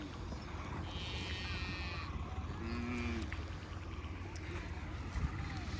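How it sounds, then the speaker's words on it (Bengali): Cows, buffaloes and calves arriving in a line at the Char Khamardiar riverside char at dusk, a few faint lowing calls over a steady low rumble of open-air background noise. "সারিবদ্ধভাবে কিন্তু অনেক গরু আসছে, মোষ আসছে"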